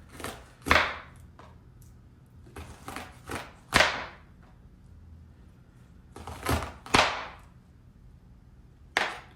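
Knife striking a cutting board as corn is chopped into small pieces for a Trinidad-style beef stew, a few sharp irregular chops in short clusters with quiet pauses between.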